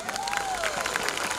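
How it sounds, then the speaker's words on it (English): An audience claps at a school annual day celebration, a dense, even wash of many hands filling the hall with no break. "If yes, clap your hand loudly."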